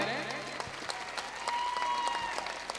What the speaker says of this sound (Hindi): इस बच्ची का, इस दीदी का, इन दीदी का जोरदार तालियों से आप स्वागत करें